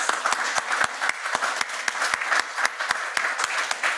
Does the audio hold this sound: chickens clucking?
no